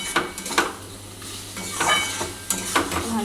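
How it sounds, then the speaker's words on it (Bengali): Spices fry in hot oil in a pan for a Bengali-style koi fish curry, a steady sizzle broken by repeated scraping and clinking strokes of a spatula against the metal pan, close up and with no talking. "মশলাটাকে ভেজে নিতে হবে ভালো করে"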